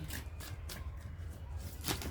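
Soft, quick riffling of tarot cards being shuffled, a few short papery bursts close by and quiet.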